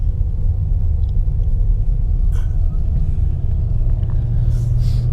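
A Ford car crawling in first gear on a wintry road, a steady low engine and road rumble throughout with no clear changes.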